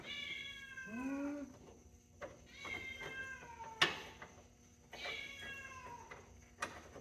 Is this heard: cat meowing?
yes